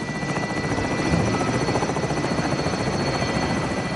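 A helicopter arriving in Call of Duty Modern Warfare's Plunder mode gives a steady, loud rotor drone with a dense thumping chop that holds for the whole stretch, with no voices.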